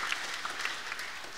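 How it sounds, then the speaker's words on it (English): Audience applause at a high school spring band concert in a school auditorium, a brief, moderately loud wash of steady clapping from many hands. "So let's give a round of applause to Ms. Turner."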